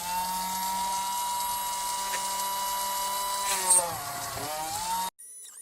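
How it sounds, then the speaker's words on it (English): A small electric drill whines steadily at close range while boring holes through center-punched pads on a homemade PCB, its pitch dipping briefly near the end before it cuts off. "I have center punched all the pads where the holes need to go. So now I'm going to drill them."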